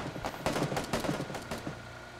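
Gunfire in the game Apex Legends, a rapid, uneven run of sharp shots and bursts, fairly faint and fast-paced, with no voices.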